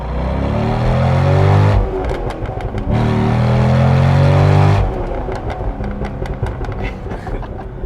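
A C6 Corvette's loud engine and exhaust drone while driving, with crackling pops and sputters between throttle pulls and a couple of surging revs.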